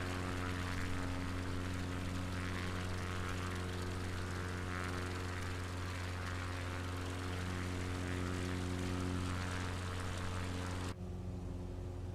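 A steady propeller engine drones loudly throughout with a constant low hum and whooshing wind noise, from inside a light aircraft in flight along the UK coast near Exmouth, Sidmouth and Seaton.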